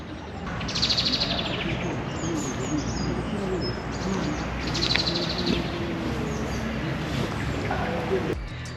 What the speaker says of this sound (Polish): to byśmy mogli posłuchać jak śpiewają ptaki